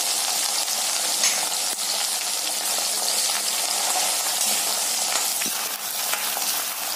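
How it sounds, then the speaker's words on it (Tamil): Sliced ivy gourd frying in hot oil, a steady dense sizzle and crackle holding even throughout, close and alone with no talk. "இதை எண்ணெயில சேர்த்து பொரிச்சு எடுத்துடலாங்க"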